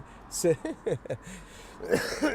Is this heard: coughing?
yes